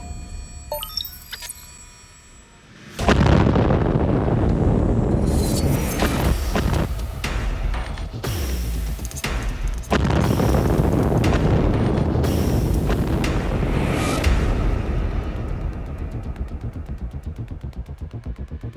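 A hydrogen gas explosion test: a sudden loud blast after a quiet moment, followed by a long roaring rumble and a second surge, slowly fading with crackling debris noise.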